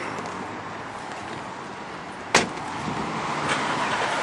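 Nissan Elgrand E51 people mover with a 3.5-litre quad-cam V6 cruising on an open road, a steady broadband cabin rumble and road noise throughout, with a brief sharp knock or click midway.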